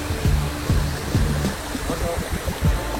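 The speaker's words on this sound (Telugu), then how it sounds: "ఇదిగోండి అక్కడ చూసుకుంటే ఇలా వస్తుందన్నమాట వాటర్" Water rushes down the waterfall at Punyagiri in a constant, loud broadband roar, while people talk faintly over it.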